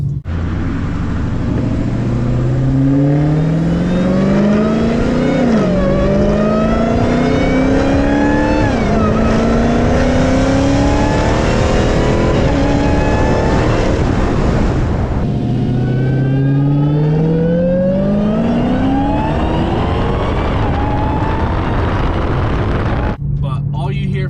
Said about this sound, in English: The only drawback of having the car this loud now is now I don't hear the supercharger screaming anymore